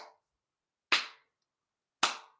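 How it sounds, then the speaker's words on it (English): Two sharp, loud hand claps spaced about a second apart, each alone in silence, performed as part of a Krampus ritual at a Christmas gathering. "That's how you clap for the Krampus."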